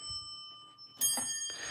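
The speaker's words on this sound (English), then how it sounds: "I just rebuilt this bell system the other day." A rebuilt, partly 3D-printed victory bell system rings with sustained bright tones, then a second sharp strike near the end adds fresh ringing over the fading hum.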